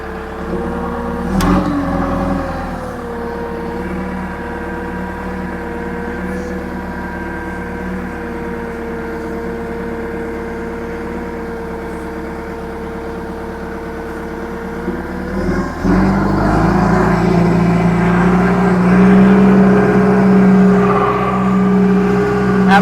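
Engine of an old abandoned digger held at steady revs on a hand throttle, a continuous droning hum that climbs to a louder, heavier pitch partway through, with a sharp knock near the start.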